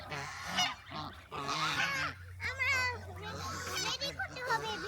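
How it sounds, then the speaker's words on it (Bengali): Domestic geese on a farm honking loudly and repeatedly at close range in overlapping nasal calls, mixed with a voice and other people talking. "আর এই যে আমাদের রাজাহাঁস"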